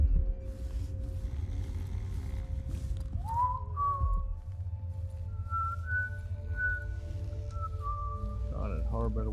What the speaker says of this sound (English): God, that horrible whistling.